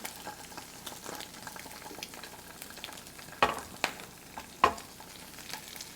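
Stuffed eggs sizzle and brown in a frying pan for a Sicilian family recipe, a steady crackling fry broken by a few sharp louder pops and spatters, close up with no talking.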